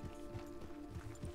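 Horse hooves clip-clop in a steady walking rhythm in Red Dead Redemption, close and moderately loud over a constant musical drone, with no talk.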